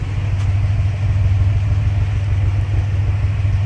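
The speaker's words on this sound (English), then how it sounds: "Here's the exhaust right here." Chevrolet Monte Carlo with an L36 engine idling after a revamp, its exhaust giving a steady, deep low rumble heard up close, even and unbroken throughout with no talking.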